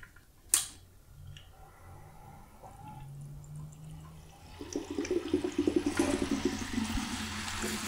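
Water is poured into a PC water-cooling loop. After a sharp click, a low pump-like hum runs, then a burst of gurgling, bubbling water with rapid ticking pulses rises to the end, fairly quiet overall.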